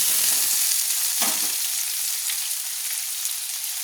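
Cut potatoes with salt and turmeric frying in a pan for a Kolkata-style barbati aloo dish: a close, continuous sizzle with a brief louder scrape or stir early on.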